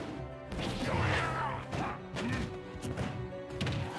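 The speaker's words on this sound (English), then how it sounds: "Ganondorf getting greedy with those F smashes" Heavy smash hits from Ganondorf's forward smash attacks in a Super Smash Bros match against Kazuya, loud impacts with game effects layered over continuous crowd or commentary noise, several strikes across a few seconds.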